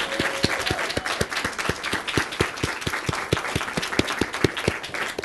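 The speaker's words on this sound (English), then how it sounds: "Why don't we give her a huge round of applause?" An audience at a bookfair event claps together in a steady round of applause, with distinct individual claps standing out close by over a continuous wash of clapping from the crowd.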